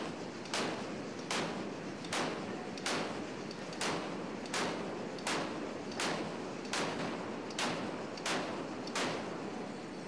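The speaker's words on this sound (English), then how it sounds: "The 4-inch cannons also got a workout." Naval 4-inch cannons fire a regular series of about a dozen loud, sharp blasts roughly one second apart, each followed by a short booming decay over a steady background.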